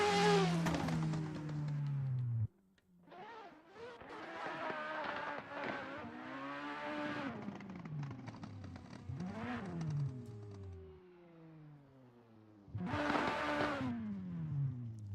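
Drift cars race at a street spec competition, among them a Toyota Supra and a Nissan S13. Engines rev and wail through repeated rising and falling pitch sweeps, with tires squealing loudly and no voices present.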